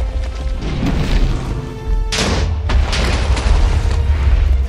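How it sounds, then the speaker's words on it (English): Minecraft creepers exploding in an arena, a dense run of loud booms and crashes over a constant low rumble, with a sharp burst near the middle. "Creepers are going boom."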